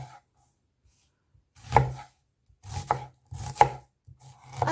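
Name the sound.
knife chopping onion into pieces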